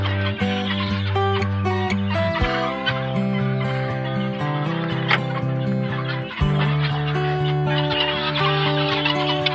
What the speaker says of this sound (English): let the guinea out